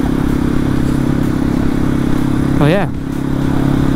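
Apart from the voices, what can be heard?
Janus Halcyon 250 motorcycle engine running while riding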